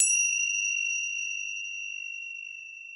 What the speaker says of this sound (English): And then the yoga bells.